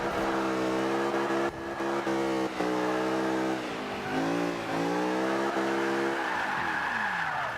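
A supercar drifts in Forza 5, the engine revving high and fluctuating as the tyres squeal continuously through the slide, loud and close with no talking.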